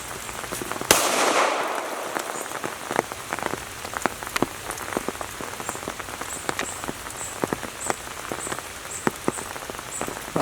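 A Troy A4 rifle fires a full magazine outdoors in the rain, with a string of sharp, irregularly spaced cracks over a constant hiss of falling rain, after a louder initial burst.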